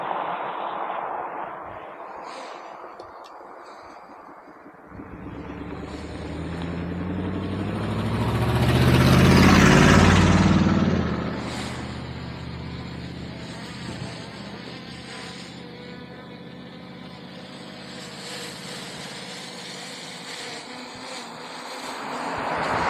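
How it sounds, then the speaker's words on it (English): Small camera drone flying in strong wind, its whine rising to a loud close pass and then easing off as it drifts away, with buffeting wind noise throughout. "Any day you can get that drone back is a good flight."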